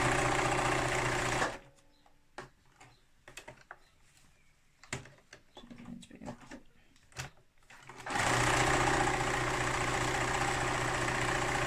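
A sewing machine stitches a zigzag seam on a tote bag, running in a loud, even mechanical whir, stopping for several seconds of quiet handling clicks, then starting up again at full speed.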